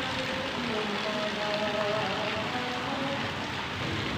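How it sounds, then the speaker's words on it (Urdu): Continuous rain pours down outdoors, a dense, steady hiss of drops striking surfaces, with faint voices murmuring underneath. "لگاتار بارش ہو رہی ہے"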